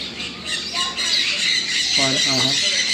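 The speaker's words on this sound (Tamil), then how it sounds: "அருமையான ஒரு கிளி." Harsh, repeated squawks from parrots in an aviary at a Yelagiri amusement park, loud and continuous with shrill bursts and a voice talking beneath.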